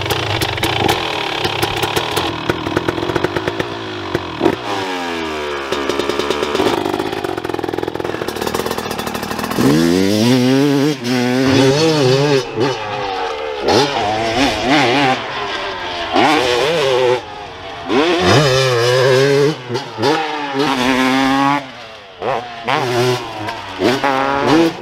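Two-stroke dirt bikes, a Yamaha YZ 300 and a KTM 300 SX, ride hard on a timed run, rapid revving and rising pitch sweeps through gear changes, loud and close throughout with brief throttle cuts.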